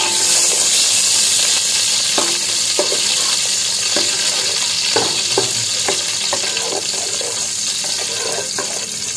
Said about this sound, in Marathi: तेल पण व्यवस्थित तापलेलं आहे तर त्याच्यामध्ये ऍड करायचे आता लसूण.